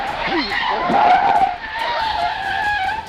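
A sedan's tires screech as it skids out of control on a road, a short loud squeal over car noise, with some voice-like sound faintly mixed in.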